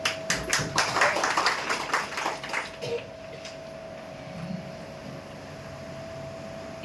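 Council members applaud together in a municipal council hall, a burst of close, dense clapping lasting about three seconds before fading into the room's steady hum of fans.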